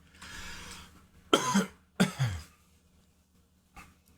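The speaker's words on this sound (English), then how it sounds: "Dang, this coughing's gonna get me." A few close, harsh coughs in quick succession, then a softer one after a pause, with quiet breathing between.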